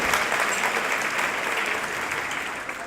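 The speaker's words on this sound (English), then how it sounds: "clap it up, ladies and gentlemen" Audience applause at a comedy show, a dense, steady round of clapping from a crowd filling the room, holding evenly and easing off slightly toward the end.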